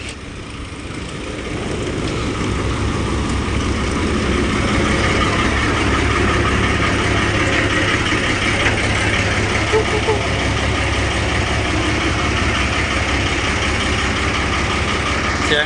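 A boat's engine idles in a steady low rumble throughout, with voices talking over it and some background bustle.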